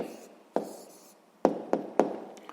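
A pen writes out a maths answer in a quiet room, giving soft scratching strokes broken by several sharp taps as it touches down on the page.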